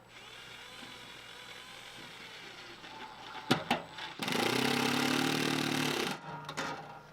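Screws go into the floor during a MorRyde stair install: a couple of short clicks, then a cordless driver whirs steadily for about two seconds, close and loud, followed by brief bursts.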